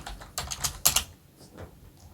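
Quick bursts of typing on a computer keyboard, a few clustered keystrokes close by and moderately loud, with short pauses between, no talking.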